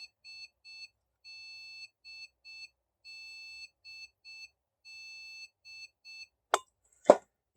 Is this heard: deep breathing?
no